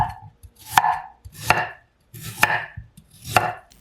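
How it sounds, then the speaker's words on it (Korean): A knife slices through a carrot on the diagonal, the carrot turned between cuts, four crisp distinct chops against a board at an even, unhurried pace, close and alone. "당근을 돌려가면서 어슷 썰어주세요."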